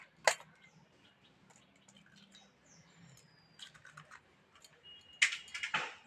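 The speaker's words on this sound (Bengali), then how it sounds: "ফাটিয়ে আমি এইটা দিয়ে ডিমটাকে ভালো করে গুলে নেবো কিছুক্ষণ ধরে।" An egg is cracked against a bowl, then beaten with a utensil, giving a sharp tap followed by quick, light clinks and taps against the bowl, close and fairly quiet with pauses between bursts.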